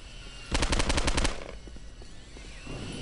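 A rapid burst of automatic gunfire from the game Postal 2 rattles for about a second over a steady game-like background hum, followed by quieter clicks and ambience.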